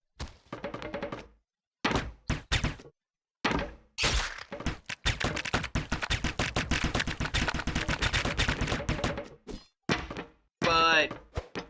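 Rapid gunfire and metallic thunks of bullets ricocheting off enemy shields in the side-scrolling action game Broforce, dense bursts of impacts through the middle with short breaks and a rising sweep near the end, no speech.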